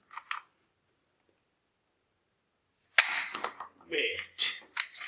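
A toy gun, an MP5- or MP7-style military toy, fires in a few sharp snapping bursts at close range, with lively voices and other clatter filling the second half.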